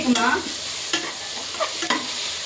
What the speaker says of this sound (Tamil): சிக்கன் கிரேவி இஞ்சி பூண்டு போட்டு வணக்கியாச்சு.